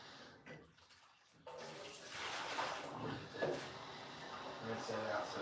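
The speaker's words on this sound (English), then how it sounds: "I'm pouring some water into a big Tupperware container." Water runs and splashes into a big Tupperware container in a kitchen, a steady rushing pour that grows louder partway through, with a voice speaking over it.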